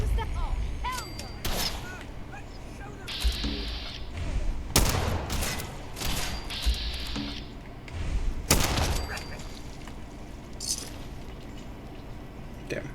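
Bursts of gunfire from the Fallout 4 video game, several loud shot volleys and rapid salvos spread across the stretch amid game ambience.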